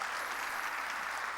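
A church congregation claps during a sermon, producing an even, sustained wash of applause with no speech over it.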